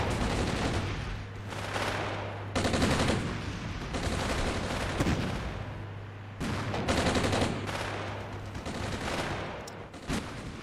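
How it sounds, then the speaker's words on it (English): Dense gunfire and machine-gun bursts from the Armored Brigade war game, loud, continuous, overlapping volleys filling the whole stretch without letup and with no talking. "that's a lot of enemy fire"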